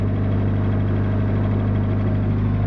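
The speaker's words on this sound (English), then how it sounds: "I think it should idle now" A 1984 Jeep DJ-5M engine idles close by with a steady, even low rumble and a faint rhythmic pulse, holding at a constant level the whole time with no other sounds.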